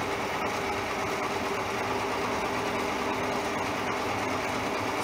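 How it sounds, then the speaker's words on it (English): High speed milling head motor on a Schaublin SV52 mill runs steadily, a continuous even whir with a faint high whine and no pauses, close and alone. "the motor can be run in two directions"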